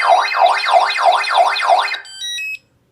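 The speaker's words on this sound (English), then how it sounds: "that's the Scantronic alarm tone" A Scantronic alarm tone blares loudly from the loudspeaker of a Menvier 30 alarm panel: about six rising-and-falling warbles, then a few short, higher beeps before it cuts off abruptly.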